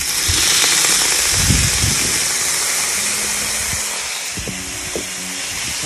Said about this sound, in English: So I'm gonna add a little water.